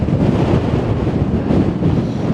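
Strong wind gusts of around 40–45 mph buffet the microphone on a cloud-covered Appalachian Trail mountain top in a loud, continuous low rumble, with no voices.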